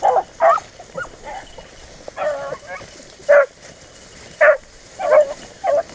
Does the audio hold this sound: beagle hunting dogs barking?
yes